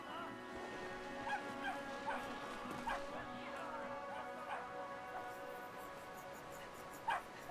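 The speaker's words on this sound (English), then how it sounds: "It's probably gonna release that dog on us." A big dog barks several times in Brothers: A Tale of Two Sons, the sharp yelps spread across a steady musical backdrop with a fairly loud bark near the end.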